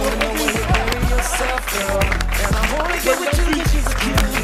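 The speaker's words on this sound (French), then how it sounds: "applaudissements" A studio audience on an arts programme claps in a brief round of applause, the dense patter steady and fairly close, mixed with voices and background music.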